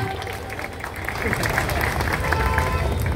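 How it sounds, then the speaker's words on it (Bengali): Applause and cheering from a crowd at a Trinamool political rally in Kolkata, a dense continuous clapping that swells and grows louder, with crowd noise and voices mixed throughout. "জোরে হাততালি হয়ে যাক"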